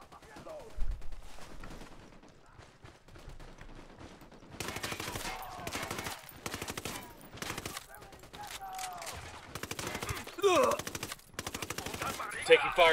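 Gunfire comes from a checkpoint in Ghost Recon Wildlands: rapid automatic bursts and single shots, sparse at first and then dense and loud in the second half, with voices talking between the volleys.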